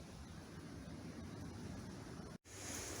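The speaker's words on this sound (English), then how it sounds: "Now I'm going to start the burner and let it come up pressure." Gas burner lit under a pressure canner for home-canning venison, giving a steady roaring whoosh that runs loud and unbroken, cuts out briefly near the end, then returns with a brighter hiss.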